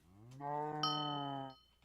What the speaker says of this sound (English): Oh, there's a cow. Let's get a cow. Cow, come here.